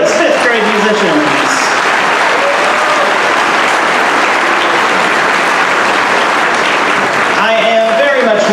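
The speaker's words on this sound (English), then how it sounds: "One more round of applause for our fabulous 5th grade musicians." A loud, full round of audience applause for 5th grade musicians at a school band concert, dense clapping that carries on throughout, with voices briefly audible at the start and again near the end.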